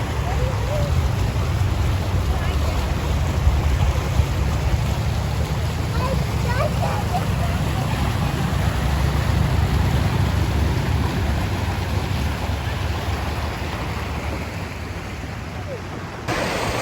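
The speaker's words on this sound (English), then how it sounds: "This beautiful river was running along the side of the road" A river rushing alongside a roadside on a day trip near Denver, a steady broadband wash of flowing water that stays loud and even throughout, mixed with low rumble like passing traffic or wind.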